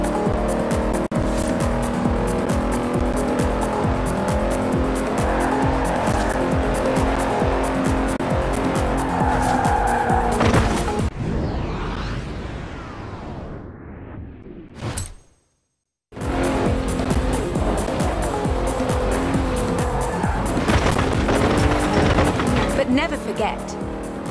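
A Bentley Continental races in Forza Horizon 4, its engine roaring loud and steady with tire squeal and skids, then a brief whoosh and a sudden near-silent gap before the racing noise resumes.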